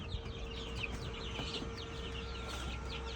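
Day-old to two-week-old chicks in a backyard brooding area, a steady dense chorus of high peeping chirps from many birds over a constant low hum.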